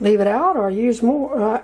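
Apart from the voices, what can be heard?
No distinct noise like a dog, phone or traffic.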